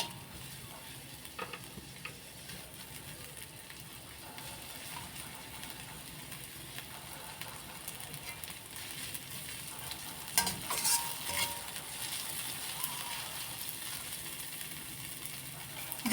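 Onion, chilli and garlic fry together in a pan with a soft, steady sizzle and intermittent stirring scrapes, which grow a little louder and busier near the end.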